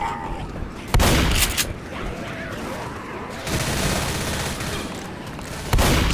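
Rapid gunfire from the video game Left 4 Dead rings out as players shoot at zombies, with loud bursts near the start and end and sustained shooting in between, under brief shouted talk.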